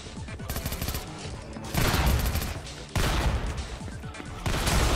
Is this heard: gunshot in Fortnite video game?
yes